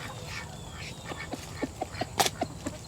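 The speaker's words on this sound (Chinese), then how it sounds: "大鹅来了！" Several short honks from farmyard geese, given bursts in a loose rhythm at middle distance over a low background hum, with some fainter calls mixed in.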